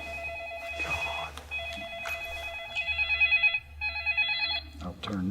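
A cell phone rings in a quiet room, its electronic warbling tone repeating in several bursts while a person speaks over it and shuffling noises follow.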